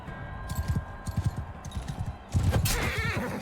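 A horse's loud whinny in Mount and Blade Bannerlord battle rises over rhythmic hoofbeats and clattering, with galloping thuds continuing throughout.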